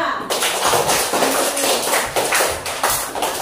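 Classroom applause for a student group after a science presentation on light experiments: a dense, steady patter of many hands clapping, close and fairly loud, continuing without a break for a few seconds.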